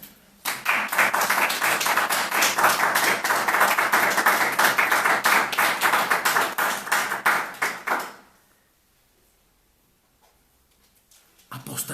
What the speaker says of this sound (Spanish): Fuerte aplauso al Señor Jesucristo